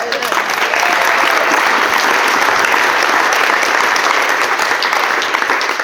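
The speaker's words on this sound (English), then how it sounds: "big round of applause for all of you for investing in yourself" Sustained, loud round of applause from an audience at a real estate investor panel event, steady dense clapping filling the whole stretch with no talk over it.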